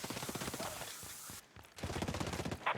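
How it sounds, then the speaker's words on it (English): Bursts of automatic gunfire from a shooter game, Ghost Recon Breakpoint, come as rapid rattling volleys with a brief pause in the middle, moderately loud. "I hear gunfire."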